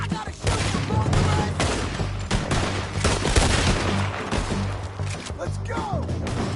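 Heavy, rapid gunfire fills a Red Dead Redemption 2 story shootout, with dense overlapping shots and bursts continuing throughout, close and loud.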